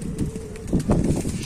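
Tumbler pigeons flapping their wings in flight, a brief flurry of close, soft wingbeats with no voices.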